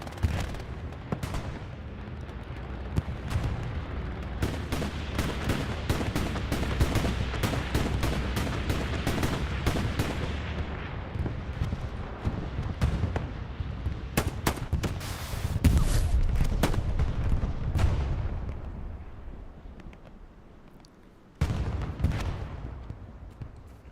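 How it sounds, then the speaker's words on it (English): Explosions from a bombing run in competitive Hell Let Loose on the Omaha map, a dense barrage of loud booms and rapid gunfire crackle rolling on for most of the stretch before a brief lull and a final burst. "Bombing run called in the crossroads."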